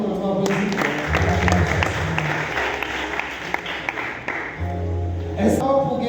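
Applause at a wedding ceremony, a crowd of guests clapping in a steady broad patter for several seconds while voices and music tones run underneath.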